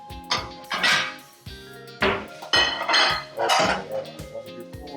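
Plates and dishes being taken out, several sharp clinks and clatters of crockery in an irregular rhythm, close and fairly loud.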